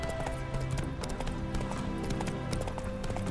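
Horse hooves clip-clop steadily at a walking pace in The Witcher 3, a regular rhythm of hoof strikes on the ground over faint background game ambience.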